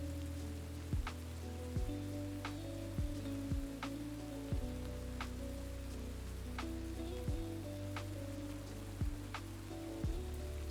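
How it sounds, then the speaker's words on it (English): Steady rain patters on a surface throughout, a dense hiss with scattered sharper drop ticks at an even level. Low tonal background tones run underneath, and no one speaks. "Oh, it's raining, how cozy!"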